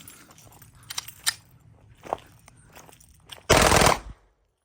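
A Glock 26 pistol fires a single loud, close blast of rapid shots near the end, after quieter handling clicks and rustles.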